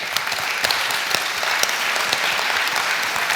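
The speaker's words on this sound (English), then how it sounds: "Round of applause for these guys." A seated audience at the Tuning In North podcasting panel breaks into loud, sustained applause. Dense clapping fills the room evenly for several seconds without letting up.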